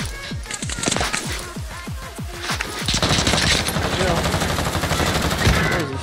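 Gunfire in the video game Warzone: a rapid automatic burst of sharp shots, then a dense, sustained barrage of crackling fire, loud and close throughout. A voice is faintly audible beneath the shooting.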